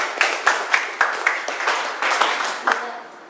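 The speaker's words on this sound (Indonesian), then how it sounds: "Tepuk tangan untuk orang-orang dewasa." Audience clapping at a business presentation, a small crowd giving scattered, uneven claps with distinct sharp hits standing out, moderately loud and fading toward the end.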